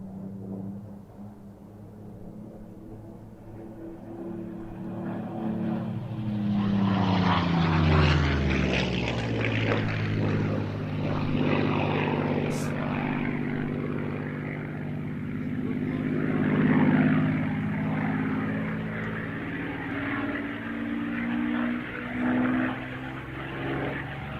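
A Spitfire's propeller engine drones and builds as the aircraft passes near, a deep throbbing roar that swells, shifts pitch and stays loud before easing off, with faint voices underneath.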